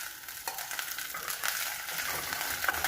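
Fish pan-frying in oil for a Bengali fish curry, lightly browned on both sides, gives a steady close sizzle with faint stirring scrapes, growing slightly louder toward the end, with no voices.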